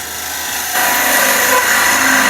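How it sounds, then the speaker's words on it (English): Wood lathe spinning while a bowl gouge cuts across end grain, a steady close scraping hiss that grows louder and brighter as the tool engages, with no voices. "So let's go with a little bowl gouge, just tidy up this end grain."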